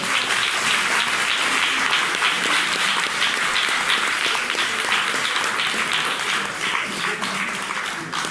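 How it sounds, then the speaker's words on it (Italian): Steady, dense applause from a lecture audience fills the room, a continuous wash of many hands clapping that holds strong throughout and eases slightly near the end, with no talking over it. "Applauso."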